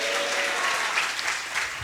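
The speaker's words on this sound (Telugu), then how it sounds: "నా మాటలు అర్థమైన వాళ్ళు చప్పట్లు కూడా స్తోత్రం చేద్దాం" A church congregation claps in praise during a Telugu Christian sermon, with sustained, even applause filling the room and a faint steady tone beneath it.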